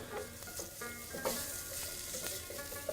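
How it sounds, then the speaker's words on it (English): Chopped onion fries in oil with ginger and garlic paste over a medium-low flame, a steady close sizzle with faint stirring scrapes and no talking. "I start with oil, Ginger garlic ginger paste, garlic paste, onion."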